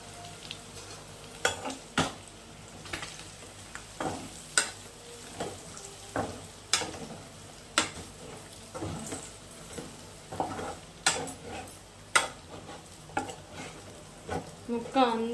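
Chicken pieces stir-roasted in a pan with pounded pepper powder: repeated sharp scrapes and clinks of a spatula against the pan at a steady rhythm over a low, constant sizzle, close and moderately loud, with no talking.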